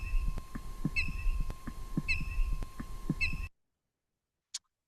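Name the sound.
chickadee alarm call given to a coyote, played recording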